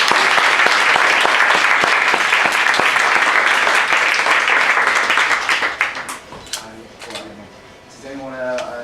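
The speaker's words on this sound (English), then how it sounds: "So a quick round of applause for this." An audience at a YouTube panel during a 2015 gaming fan meetup breaks into dense, loud applause that holds steady for about six seconds, then thins into scattered claps and fades out.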